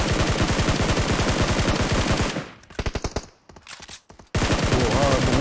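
Rapid automatic gunfire in PUBG Mobile rattles in loud sustained bursts, breaks briefly into scattered shots, then resumes at full intensity, with excited players talking over it.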